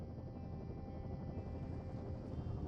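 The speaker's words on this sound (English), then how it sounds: "There's the helicopter." A helicopter in Firewatch hovers nearby with a steady, dense rotor and engine roar that holds evenly throughout, no voices over it.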